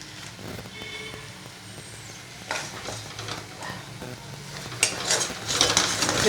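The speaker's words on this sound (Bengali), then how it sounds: "এবার এটা কষাচ্ছি" Curry being sautéed and stirred in a pan, with a moderate sizzle and scraping that grows louder and busier toward the end.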